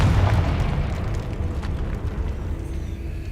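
Confringo fire spell cast in Hogwarts Legacy, a loud booming blast with a rumbling tail that lingers for several seconds.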